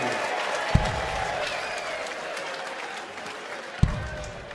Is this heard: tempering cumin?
no